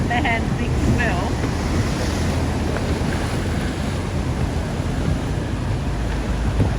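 Wind and ocean swell on open water along the NSW waterways between Brooklyn and Palm Beach, heard from a fishing boat as a steady, loud broadband rush with wind buffeting the microphone throughout.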